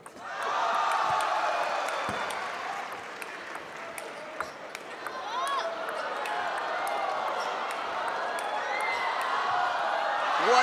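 Arena crowd cheering and applauding after a table tennis rally at the China Open 2014 women's match, a sustained roar rising and holding with scattered ball pings, under a commentator's voice.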